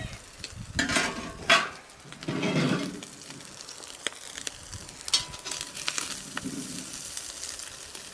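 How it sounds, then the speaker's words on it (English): Onions browning in a pan over an outdoor wood fire give off an uneven crackle and hiss, with louder bursts of sizzle rising and fading amid quieter stretches of background noise. "Get our onions browned."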